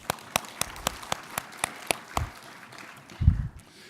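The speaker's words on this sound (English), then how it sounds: "Let's have a round of applause." Sparse applause at a public policy meeting, a few distinct, evenly spaced claps from a small audience that stop abruptly, followed by a low thump.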